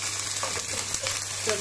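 Chopped onion and garlic sauté in a pan for a Goan prawn curry, a close, continuous sizzle with light stirring scrapes.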